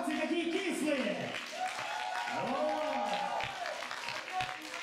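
Lukewarm audience applause at a Christmas-season Mashina Vremeni rock concert, a steady wash of clapping filling the hall while a voice speaks over it.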